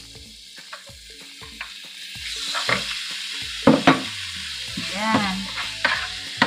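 Chicken and onion sizzle steadily in a hot pan while a utensil stirs and scrapes through them at an uneven rhythm, with a few sharper clinks standing out and no talking.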